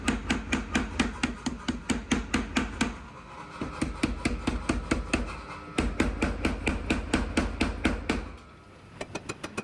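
A power hammer pounds a steel knife blade to step down its thickness, delivering rapid, evenly spaced heavy blows close by, with two brief pauses before the rhythm resumes.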